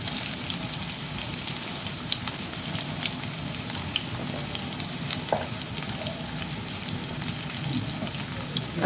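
Onions frying in hot fish oil with a pinch of black cumin, a dense continuous sizzle with fine popping close by, steady and unbroken, no talk over it.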